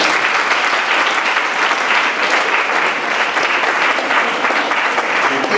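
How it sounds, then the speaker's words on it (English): An audience claps loudly and steadily for a group of young people at a Black History Month event, a dense, even wash of applause lasting several seconds with no voices over it. "Let's give these young people another round of applause"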